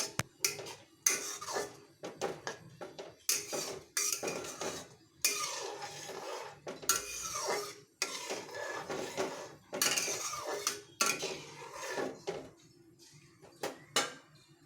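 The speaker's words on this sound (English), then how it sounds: "Stir it well." A pot of milk being stirred while making a simple vegetarian simui (vermicelli) dish, with repeated clinks and scrapes of a utensil against the pot's sides in close, uneven bursts with brief pauses.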